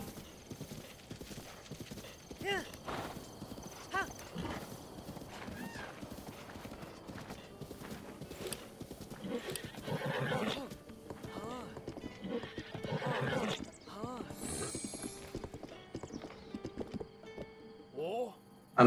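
Horse hooves clip-clop and a horse whinnies repeatedly in Zelda: Breath of the Wild, with game effects and background music, while a person talks intermittently over the sounds.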